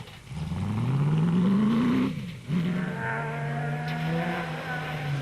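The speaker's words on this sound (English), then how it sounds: "Watching the Micra and Excel Toyota Hilux go on its merry way" A Toyota Hilux race truck at the Sugarbelt 400 rally pulls away, its engine note rising steadily through a gear, dipping briefly at a shift, then droning on loud and close with no talking.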